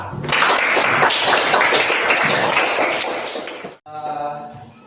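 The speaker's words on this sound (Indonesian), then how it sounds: "sekali ini Bapak berikan aplaus untuk kelompok kelas 8A" Classroom of students applauding for the class 8A group, a dense burst of close clapping lasting several seconds that cuts off abruptly, followed by a brief voice.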